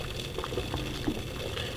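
Clay pipe head boiling in a pot of water: a steady, dense bubbling roil with scattered pops and gurgles, continuous and close, with no voices.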